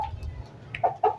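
A couple of short, sharp chicken clucks near the end rise over a quiet background, close by, with no talking.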